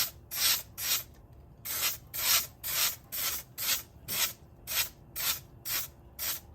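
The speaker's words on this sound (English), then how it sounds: "So I'm just gonna get some spray adhesive and then just get some of that stuck down on the backside." Spray adhesive hisses onto the back of a seat cover during a seat foam and cover change, in about a dozen short, evenly paced bursts, close and fairly loud, with no talking.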